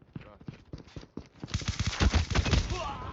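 Video game gunfire rattles in quick bursts of sharp shots, growing louder and denser in the second half, close and busy.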